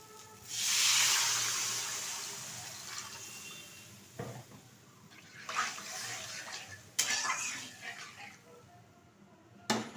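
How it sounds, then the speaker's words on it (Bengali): Water pours into a pan of spiced rui fish curry with aubergine, a close splashing gush at the start, followed by scattered clinks and stirring sounds of pan and utensils. "এখন দিয়ে দিচ্ছি পরিমাণ মতো জল"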